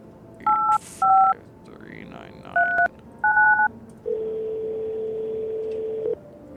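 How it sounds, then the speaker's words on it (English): Phone keypad in the video game No, I'm not a Human dials a neighbor, five short two-tone beeps followed by a steady ringing tone, clean and close. "I'm gonna go ahead and call the neighbor"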